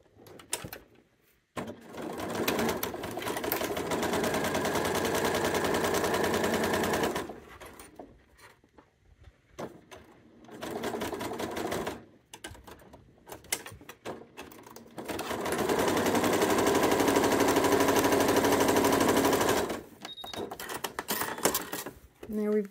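A sewing machine chain piecing quilt half-square triangles runs in long, steady stitching bursts separated by short pauses, close and loud.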